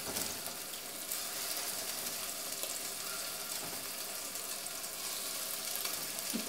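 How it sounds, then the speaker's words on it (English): Steady, crackling sizzle of meatballs frying in a hot saucepan for meatball soup, continuous and fairly close, with no talking. "hear that sizzle?"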